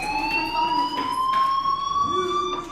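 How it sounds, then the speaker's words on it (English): A fire alarm blares inside the video game Life is Strange, a steady electronic tone with sharp overtones holding throughout, loud and continuous. "Hey, do you hear that fire alarm? That means you should be outside."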